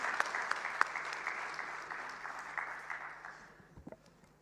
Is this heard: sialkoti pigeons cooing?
no